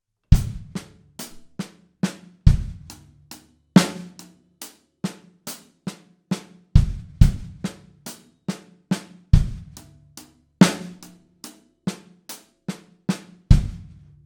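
A slow drum groove built on a paradiddle pattern, evenly spaced sharp hits with deeper kick drum thumps landing every few beats, played alone in a steady pattern.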